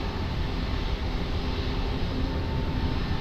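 A fixed-wing airliner at Lisbon Airport, runway 20 in use, gives a steady broadband engine roar that holds at a constant level throughout, with no voices.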